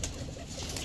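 A low, steady murmur of cooing comes from Gojra-line pigeons kept in a loft, brief and continuous with no talking.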